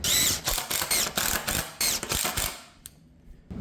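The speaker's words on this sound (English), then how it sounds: "Go ahead and throw our quick clamp on there." A quick clamp is ratcheted tight onto a wooden board while building a poult enclosure, giving a run of sharp, close mechanical clicks in an uneven rhythm that thin out to a few quieter clicks.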